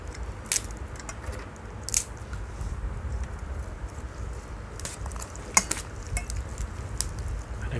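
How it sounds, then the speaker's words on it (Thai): Someone bites and chews crunchy crackling pork rinds in a dish of spicy Thai-Lao pork noodles, giving several sharp crunches over quiet chewing and soft clatter. "เสียงแคบหมูแตกปอแปะอยู่"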